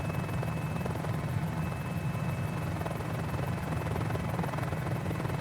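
Mini-500 helicopter in Microsoft Flight Simulator cruising over Lubbock, Texas, a constant loud rotor thrum with a steady engine drone and faint high whine, unbroken and alone throughout.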